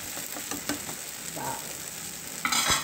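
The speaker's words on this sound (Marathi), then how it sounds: "दुसऱ्या साईडने परत आपल्याला शेकून घ्यायचं आहे, पलटून घ्यायचं आहे डोसा" Dhirde, a batter pancake, cooks on a pan with a soft steady sizzle of oil, while a spatula scrapes and stirs in a few brief clinks and rasps close by.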